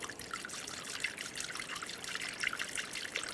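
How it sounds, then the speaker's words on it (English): Coolant is poured through a funnel into a BMW 328i engine bay, a soft steady trickle and gurgle of liquid running continuously at close range, fairly quiet, with no voices. "Using a funnel, you can add the appropriate coolant."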